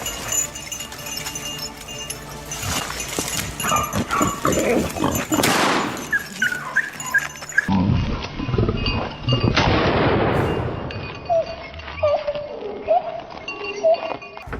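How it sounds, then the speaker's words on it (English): Hunting dogs bark and yelp in a dense thicket during a wild boar hunt in Texas, with sharp close barks, sudden loud bursts and echoing calls across the brush. "The barking of hunting dogs echoed from the dense thicket"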